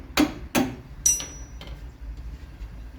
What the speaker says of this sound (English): My donated hammer.